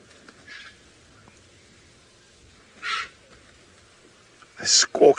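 Hyenas gather at a carcass during a sunrise safari drive in the African bush, giving a few short distant squeaks followed by sharper, louder squawks near the end, over a low quiet background.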